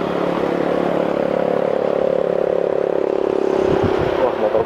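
A touring motorcycle's engine droning steadily while riding on the road in Malang, a sustained loud hum with a slight rise near the end, under wind rush.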